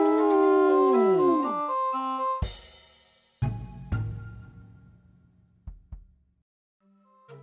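Human voices imitating a howl, one long wavering falling cry followed by scattered short yelps and whoops, fairly loud and close, with no other sounds.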